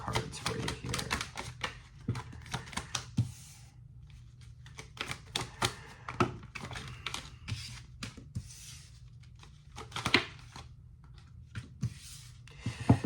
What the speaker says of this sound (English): just give me a second to pull some cards for you here.